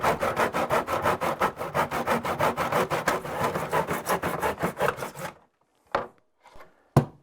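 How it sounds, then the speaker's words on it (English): Hand saw cutting wooden trim in a miter box, a steady run of about twenty quick back-and-forth rasping strokes that stops, followed by two brief knocks. "make sure that the saw is straight up and down, and then you could cut your trim"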